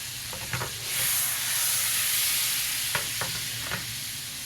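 Butter sizzles and hisses steadily in a pan for fried apples, a continuous frying crackle with a few faint clinks of a utensil stirring, no talk.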